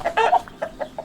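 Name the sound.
Jersey Giant chicken clucking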